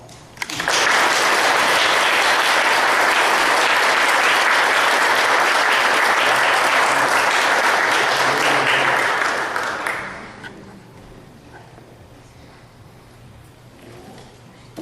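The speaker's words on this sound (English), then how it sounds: "I think our appreciation, would be best expressed by another round of applause." Loud, sustained audience applause after a church history talk at a Lutheran church fills about ten seconds, then drops abruptly to a quiet room murmur.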